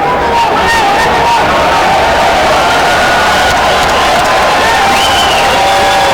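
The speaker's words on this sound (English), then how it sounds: "Listen to the crowd. They like it here at Mandalay Bay." A large boxing arena crowd at Mandalay Bay roars and cheers steadily, loud and sustained, with a commentator's voice running over the noise.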